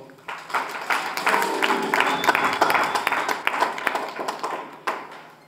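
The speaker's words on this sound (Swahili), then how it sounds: "Hebu mpigieni makofi" An audience claps and applauds for several seconds at a Swahili-language gathering, a dense burst of hand claps that swells and then tapers off.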